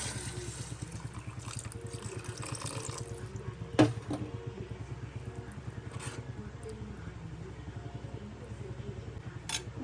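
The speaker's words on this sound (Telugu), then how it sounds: "టమాటాలు మగ్గినాయి కదా వాటర్ పోసుకోవాలి కొంచెం" Water poured into a pot of cooking tomato curry for puri, a soft steady trickle and pour running throughout at moderate level, with one sharp clink partway through.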